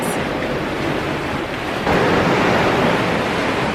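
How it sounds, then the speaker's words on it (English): Loud ocean waves and surf wash steadily onto the shore at sunrise, a broad continuous roar with wind buffeting the microphone and a slight swell in intensity partway through, no voices. "The water is super scenic and loud."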